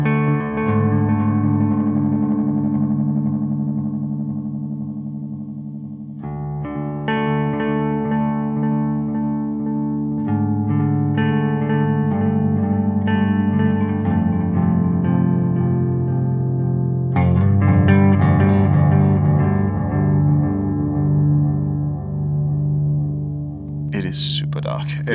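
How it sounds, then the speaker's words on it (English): Electric guitar played through an EarthQuaker Devices delay pedal, sustained chords and notes with dense, dark, distorted echo repeats stacking up steadily and loud throughout. "if you hit the strings really hard, it'll distort in its repeats"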